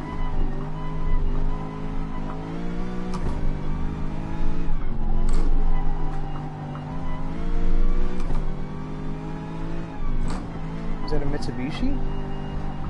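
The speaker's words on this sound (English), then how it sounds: "I'm not quite sure what kind of car that is coming up behind me" Race car engine in GT Sport, a Gr.3 online race at the Nürburgring Nordschleife, drones steadily with rising and falling revs and a few sharp shifts as a car closes from behind, under continuous talking.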